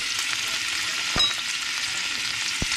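Hot dog frying in a pan for breakfast: a continuous close sizzle with light crackle and two brief thumps of stirring or turning, no talk.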